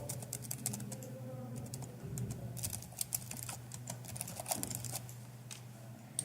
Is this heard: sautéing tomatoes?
no